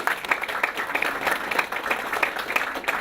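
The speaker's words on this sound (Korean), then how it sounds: "큰 박수 부탁드립니다." Audience applause at a campaign office opening for a Gyeongbuk education superintendent candidate, a steady dense wash of many hands clapping at moderate loudness throughout, with no speech.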